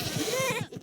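Goats bleat in Minecraft, a short wavering cry with a buzzy pitched tone lasting about half a second, close and clear over a soft background.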